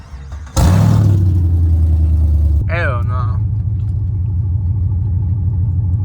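A Camaro engine with a new exhaust fires up abruptly into a loud, deep idle, drops slightly, then settles into a rumbling, throbbing burble while a voice speaks briefly over it.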